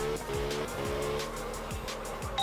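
Car drifting in the video game Absolute Drift, with a steady engine drone and repeated sliding tire squeals throughout, no talking.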